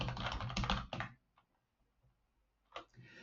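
Computer keyboard typing: a dense burst of clattering keystrokes for about a second, a near-silent pause with a couple of isolated taps, then another short flurry of keys at the end, close and without speech.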